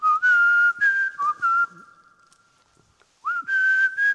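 A man whistles a tune, clear and close, in steady sustained notes with a short quiet gap before the melody picks up again.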